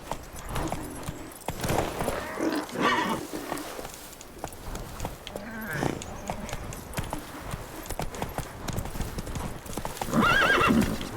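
Horse Roach gallops with rapid clip-clop hoofbeats and neighs in the video game The Witcher 3, mid-loud and continuous, while a player speaks now and then.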